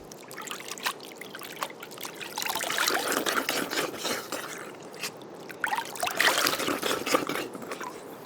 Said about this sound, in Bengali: রোসো, আগে চোখে মুখে একটু জল দেই।